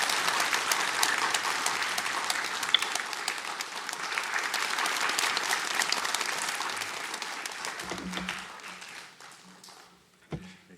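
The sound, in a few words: congregation applauding to welcome pastor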